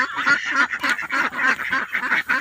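Ducks quack in a rapid, overlapping chorus of nasal calls, loud and close, with repeated calls in a steady rhythm throughout.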